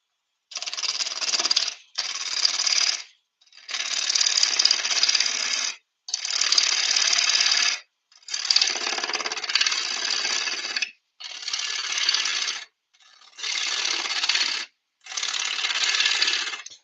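A half-inch bowl gouge cuts yew wood spinning on a lathe in eight separate bursts of bright, hissing scraping, each one or two seconds long with short silent gaps between them, and no voices.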